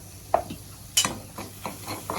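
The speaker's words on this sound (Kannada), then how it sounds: "ಸ್ವಲ್ಪ ಚೆನ್ನಾಗಿ ಫ್ರೈ ಆಗಲಿ." Curry leaves, chilli powder and salt frying in oil over low heat for mango pickle, a soft sizzle broken by several sharp spoon scrapes and taps against the pan, close and fairly quiet.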